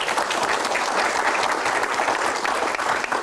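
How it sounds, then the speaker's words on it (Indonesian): Loud, dense applause from a large audience at an Indonesian Q&A event, a continuous roar of clapping hands that holds steady and close throughout with no talking. "Tepuk tangan."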